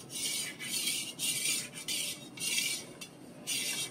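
A spoon stirs dissolved jaggery into a milk mixture in rhythmic scraping strokes, about seven bursts with short pauses, close and clear with no talk.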